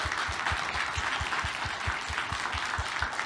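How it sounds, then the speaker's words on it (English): A panel audience at a First Nation fire departments event claps steadily in a sustained round of applause, with faint low thumps beneath the dense hand claps. "Let's give them a nice round of applause"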